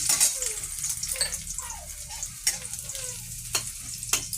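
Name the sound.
chopped garlic frying in hot oil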